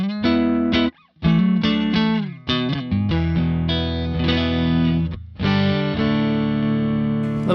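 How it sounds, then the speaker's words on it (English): An electric guitar plays a run of notes and chords in a basic clean tone with brief gaps, ending on a long ringing chord. "let's start with just the basic clean tone"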